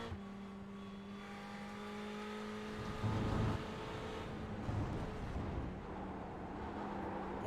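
Onboard engine sound of a race car lapping Road Atlanta, a steady loud drone with shifting pitch through gear changes and corners, continuous throughout.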